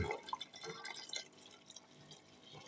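Warm water is splashed and stirred in while mixing a homemade noni fruit drink, with soft dripping and trickling liquid sounds close up, quiet and irregular.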